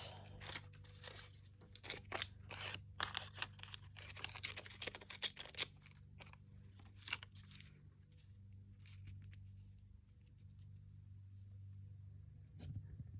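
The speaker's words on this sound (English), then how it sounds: "Let's cut the little corners off." Scissors snip through paper Halloween ephemera for a binder journal in a quick run of close, crisp cuts, thinning out into sparse faint snips over a low steady hum.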